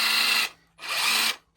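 A Parkside cordless socket wrench, brushed rather than brushless, runs in two close bursts of loud high whirring, each about half a second, with a short gap of silence between them.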